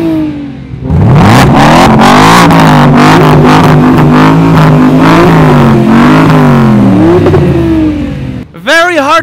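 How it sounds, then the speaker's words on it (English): Car engines rev against each other in a roadside rev battle at a car rally, loud repeated rising and falling revs layered close together, with a brief voice near the end. "I hear a rev battle coming up."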